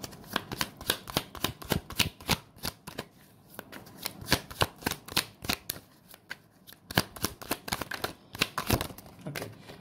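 Tarot cards are shuffled in a quick, irregular run of crisp riffling flicks lasting about ten seconds, close to the mic and moderately loud, with no talk over them.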